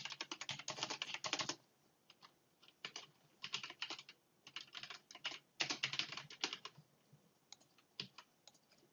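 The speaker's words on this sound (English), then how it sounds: "I'm just going to type it in." Someone types on a computer keyboard in quick irregular bursts of key clicks with brief gaps between them, close but quiet in a still room.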